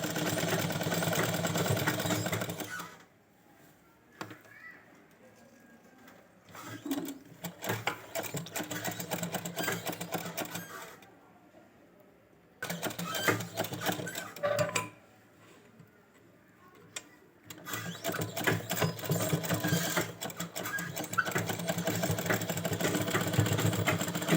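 A sewing machine runs in bursts while stitching fabric laid over lace for a baby gown, each stretch a steady close whir broken by short quiet pauses between runs.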